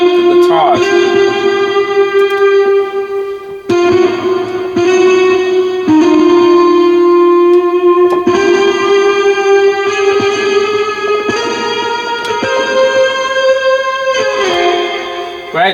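Guitar parts in a produced worship beat: sustained, effects-heavy electric guitar tones with distortion, chorus and reverb, shifting chords in loud layered phrases over a steady low note.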